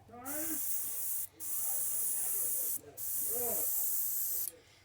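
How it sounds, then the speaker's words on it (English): Three bursts of sharp hissing spray as water is cleared from an airbrush, each lasting about a second or more with short pauses between, while a voice talks faintly underneath. "Let me get all that water out of my airbrush."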